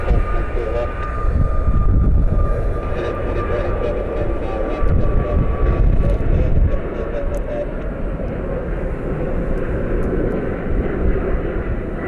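A Southwest Airlines jet airliner departs Columbus Glenn airport, its engines giving a loud, steady, broad roar that holds throughout, with voices faintly present.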